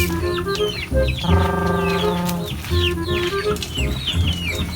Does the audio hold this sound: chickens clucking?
yes